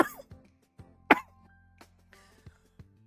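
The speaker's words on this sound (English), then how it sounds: "I almost choked on coffee." A person coughs in short, sharp bursts after choking on coffee, with one loud harsh cough standing out among several quieter throat sounds, close up and without talk.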